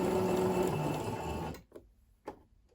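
A sewing machine stitches a dress seam toward the armhole in a steady, moderately loud mechanical whir, which stops after about a second and a half, leaving a few soft clicks.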